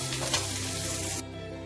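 Paneer fries in a hot pan with a loud, steady sizzle and some stirring. The sizzle continues throughout and turns duller and quieter near the end.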